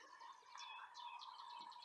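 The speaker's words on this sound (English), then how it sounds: "I can hear the birds." Small birds chirp and tweet repeatedly at a moderate distance along an outdoor walking trail at Buffalo Trace, light rapid calls over a steady faint background hum, with no talking.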